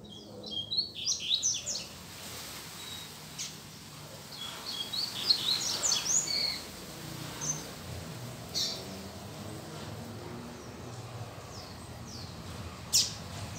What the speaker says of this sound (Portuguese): Ó a fêmea dele chamando, tá vendo?